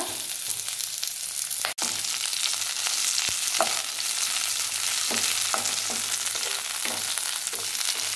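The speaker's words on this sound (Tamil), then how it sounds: "இப்போ இந்த பிறண்டையும் சேர்த்திட்டு நல்லா வதக்க போகிறாங்க" Perandai sautéing in oil with garlic, tamarind, curry leaves and dried red chillies, a dense continuous sizzle close by with a few light stirring taps and one sharp knock partway through.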